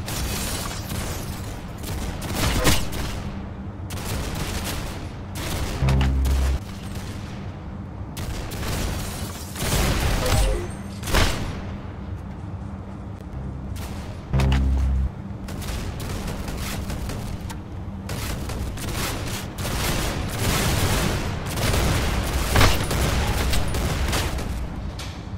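Gunfire in the Roblox shooter Arsenal: dense, continuous volleys of rapid shots with periodic heavier booming bursts, loud and steady throughout with no talking.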